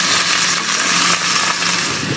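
Filet mignon laid into hot oil in a pan on a gas stove, giving a loud, dense, steady hiss of searing that stays close and continuous throughout.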